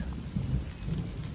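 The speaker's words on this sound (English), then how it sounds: "Hear that thunder?" Low rumbling thunder rolls under a steady hiss of rain, the rumble swelling briefly and fading.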